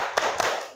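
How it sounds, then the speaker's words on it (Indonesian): A classroom's 'tepuk semangat' clap led by a teacher, two quick sharp hand claps close by, with a faint voice beneath. "kita tepuk dulu ya. Oke? Tepuk semangat."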